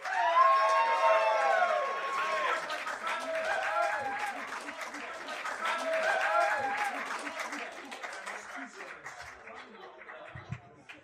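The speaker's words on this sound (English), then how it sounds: "Let's give a big round of applause for Mike McClure." An audience at a live podcast taping at The Bitter End claps and cheers, with loud whoops and shouts over the applause that swell and fade, and some excited voices mixed in.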